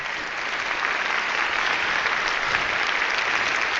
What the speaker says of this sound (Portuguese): uma salva de palmas para essa equipa toda